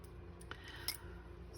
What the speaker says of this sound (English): I'm using my non-stick scissors, which are awesome, and I just cut this in half